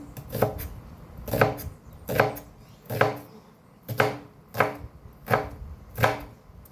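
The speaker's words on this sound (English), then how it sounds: "the onion is done chopping" Eight steady knife chops through an onion on a cutting board, evenly spaced about a second apart, close and crisp with quiet pauses between, outdoors in the countryside.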